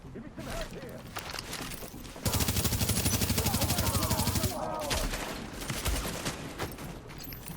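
Rapid automatic gunfire from a mounted turret in The Division, a dense sustained burst of shots in the middle, with scattered weapon fire and game sounds before and after, fairly loud.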